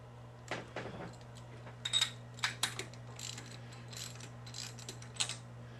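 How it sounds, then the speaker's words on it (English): An engine with its spark plugs out being rolled over by hand in fifth gear, a series of soft mechanical clicks and ratcheting clunks at irregular intervals, close and fairly quiet over a steady hum. "let's get that spark plugs out and get this thing into 5th gear and roll it over"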